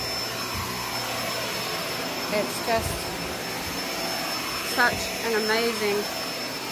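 A Kenmore Intuition bagged upright vacuum cleaner drones steadily throughout, with a person speaking briefly over the motor.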